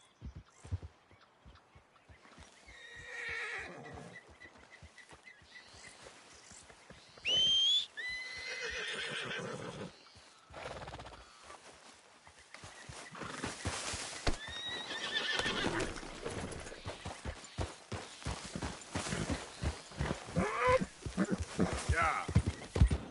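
A horse whinnies sharply amid steady clip-clop of hooves in the video game Red Dead Redemption 2, with people talking nearby and the trotting growing busier toward the end.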